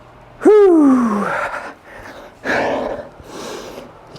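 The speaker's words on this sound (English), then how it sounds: "can hear me heavy breathing" Heavy, gasping breaths after a hard snowboard-conditioning workout, one sharp loud intake followed by several slower breaths and exhales, close and alone.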